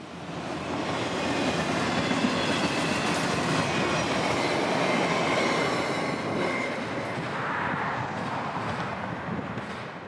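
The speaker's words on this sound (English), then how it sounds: "Today's train would be nothing out of the ordinary, plenty of freight for Orlando's numerous customers and Autoracks with brand new automobiles" CSX freight train with autoracks carrying new automobiles rolls past steadily on a cold January morning, a continuous loud rumble and rail clatter with faint wheel squeal holding for the whole stretch.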